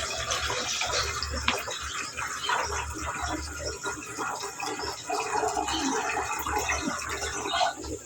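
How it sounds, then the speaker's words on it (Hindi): Water pours and splashes steadily for several seconds, a continuous rushing stream close by with a low rumbling undertone. "इसका थोड़ा सा पानी है चावलों का, वो निकाल देंगे"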